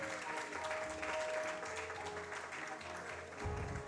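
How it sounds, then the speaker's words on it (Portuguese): An audience applauds steadily throughout at an executive board meeting, a dense wash of clapping with soft background music underneath. "uma salva de palmas para o nosso sempre Romeu Chap-Chap, que está aqui no fundo"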